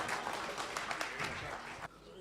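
Audience applause greeting Dr Ehsaan Azmi at a Bhopal mushaira, a dense steady patter of many hands clapping for about two seconds before breaking off abruptly.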